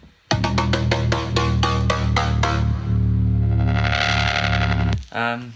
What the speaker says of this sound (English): I even called it a weird bass